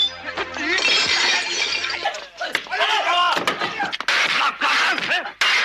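Glass shattering in an action film stunt, loud repeated crashes and tinkling shards amid thuds and impacts during a chaotic action scene, with shouting voices mixed in.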